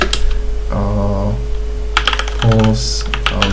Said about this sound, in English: you will type in sudo apt install